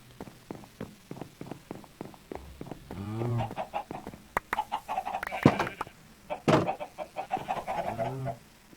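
Chickens cluck repeatedly in Minecraft, a run of short, close, fairly clear calls with brief pauses and a few louder squawks, heard without talk.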